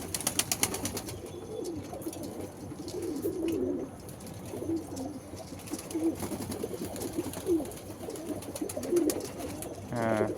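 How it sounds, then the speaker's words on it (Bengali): Pigeons coo in low repeated throaty phrases close by as they drink water from a bowl, with light rustles and a voice talking intermittently over them. "নর পায়রাও আস্তে আস্তে জল খাচ্ছে"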